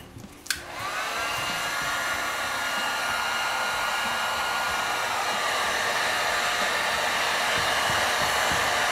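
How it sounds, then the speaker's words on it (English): A heat gun set on low dries cleaned parts from an antique Seth Thomas clock movement, starting with a click and then blowing a loud, steady whooshing roar close up without a break. "Now we'll dry them on low with a heat gun"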